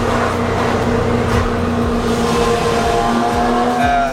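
A car engine rumbling loudly and steadily at low RPM while driving high in the mountains, a continuous deep drone with a faint higher whine riding on top.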